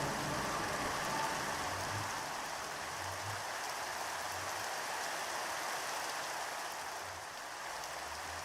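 Steady, even rain falls in Minecraft, a soft continuous hiss that holds for the whole stretch with no talking over it.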